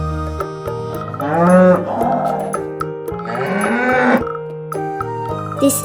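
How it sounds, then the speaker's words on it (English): A cow moos twice, long and low, each call swelling and fading over cheerful background music. "This is a cow."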